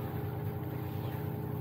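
A sailboat motors along under engine near a catamaran, its inboard motor giving a steady, even drone with a low throb that never changes, with no voices over it.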